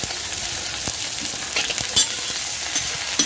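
Onions with ginger, garlic, green chili and green onion fry in a pan for a besan potato curry, a loud, close, continuous sizzle with occasional stirring scrapes and spatters.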